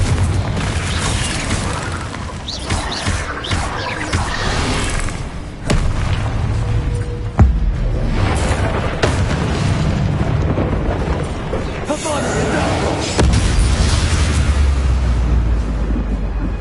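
Repeated Confringo spell blasts go off in the video game Hogwarts Legacy, heavy booming bursts over a loud, continuous rumble of combat sound that stays dense and forceful throughout.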